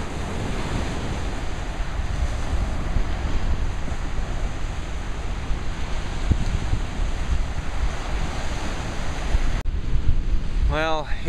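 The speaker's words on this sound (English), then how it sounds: "here I am at the beach" Ocean waves surge and roll steadily onto a quiet, empty beach near Hoi An, Vietnam, while gusting wind buffets the microphone throughout, with no people talking.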